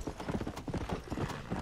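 Horse hooves galloping in Red Dead Redemption, a fast, close, rhythmic drumming of hoofbeats with faint voices talking in the background.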